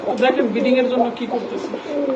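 Cooing from a pair of Shila pigeons, soft repeated throaty calls close by, with someone talking over them throughout.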